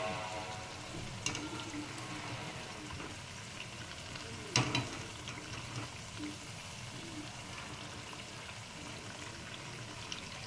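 Makegaralu fry in hot oil with a steady, dense sizzle throughout, broken by an occasional clink of a utensil turning them.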